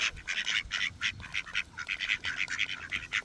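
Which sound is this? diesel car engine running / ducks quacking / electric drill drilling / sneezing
ducks quacking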